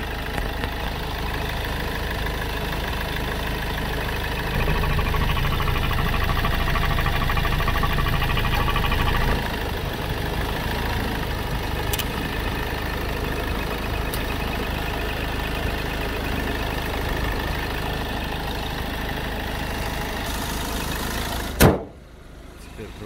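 A 2013 Hyundai Accent with a 1.6 diesel engine idles with a steady low rumble and an even drone that briefly grows louder mid-way, then ends with a sharp thump like a door shutting.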